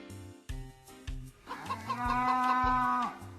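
A single video game chicken clucks in short, stuttering bursts, then lets out a longer drawn-out squawk, loud and close, with no talking.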